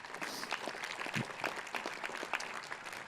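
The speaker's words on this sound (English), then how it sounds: "A round of applause again for those great moms and dads." Applause from a commencement audience for graduates' parents, a steady dense clatter of many hands clapping throughout, fairly distant and even.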